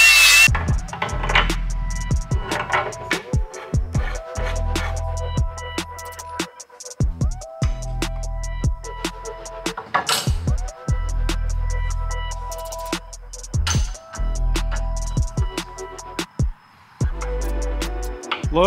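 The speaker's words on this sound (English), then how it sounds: "I am going to grind this side down about another quarter inch till we get no gap" Intermittent grinder bursts against a steel plate on the front suspension of a Toyota Hilux being rebuilt for coilovers, loud and close with repeated start-stop passes and short pauses between them.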